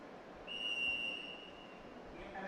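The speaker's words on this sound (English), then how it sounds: "We have the referee's whistle." At the DD Robocon 2025 national robotics competition at IIT Delhi, a referee blows a single sustained whistle blast of less than a second over a steady arena crowd hum.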